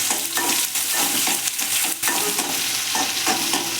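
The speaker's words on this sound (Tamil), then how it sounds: "வெங்காயம் போட்டாச்சு." Onions frying in a pan for crab masala gravy, with a loud, continuous close sizzle broken by repeated scraping strokes of stirring and no voices.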